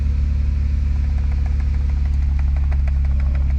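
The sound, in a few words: car with Pentastar 3.6 V6 engine starting and idling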